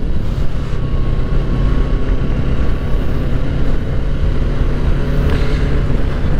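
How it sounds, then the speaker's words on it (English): A 2020 Kawasaki Ninja 650 KRT Edition's parallel-twin engine drones steadily and loudly under throttle, a continuous dense rumble with wind noise and no pauses throughout. "Lift the throttle a little bit."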